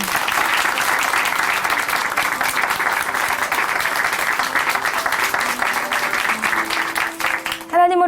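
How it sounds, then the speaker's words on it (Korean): Applause of encouragement from a church congregation at Chuncheon Hanmaeum Church during a Korean testimony program, a sustained crowd clapping over soft background music. It runs steadily for several seconds and then tapers off near the end. "다시 한번 박선희 자매님께 격려의 박수 보내드릴게요."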